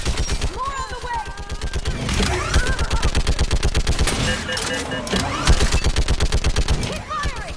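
Rapid automatic gunfire from Mass Effect 3 on Insanity difficulty rattles on without a break, loud and close, mixed with combat effects and shouting voices.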